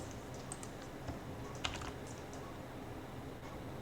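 Computer keyboard keys are pressed for a Ctrl+P shortcut, giving a handful of faint, sparse clicks over a steady low background hum.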